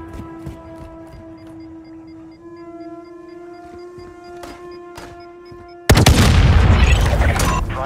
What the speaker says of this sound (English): Charge on the supplies and destroy them.